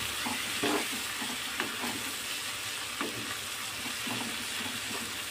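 Prawns frying in oil in a wok, a soft continuous sizzle with intermittent spatula scrapes as they are stirred, fairly quiet and close, no voices.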